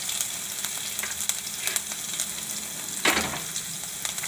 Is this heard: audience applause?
no